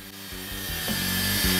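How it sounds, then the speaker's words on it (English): A miter saw cuts miter joints in wood for a towel holder, giving a steady rasping cut that swells gradually louder and close, with no voices. "When it came time to actually cut the miter joints, I just used my miter saw."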